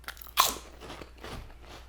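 One sharp, close crunch of a bite into a seafood-flavored chip, microwaved or fried, is followed by softer crunching chews.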